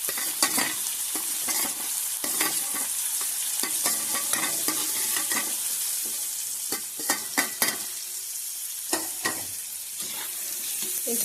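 Onions sizzle and fry in a pan for okra bhaji, a steady crackling hiss broken by sharp clinks and scrapes of a spoon stirring, with no talk.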